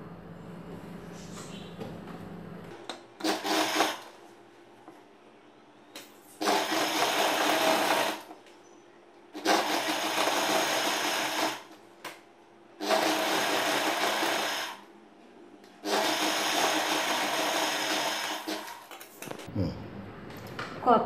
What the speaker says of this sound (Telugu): ఇప్పుడు లైనింగ్ క్లాత్ వరకు కింద వైపున ఫోల్డ్ చేసి స్టిచ్ చేసుకుందాము.